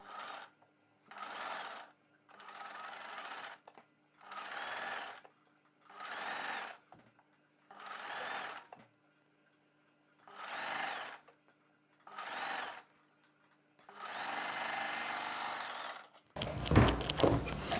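A sewing machine stitches a kurti in about nine short bursts of steady running, each a second or so long with quiet pauses between, plus one longer run near the end before a brief clatter.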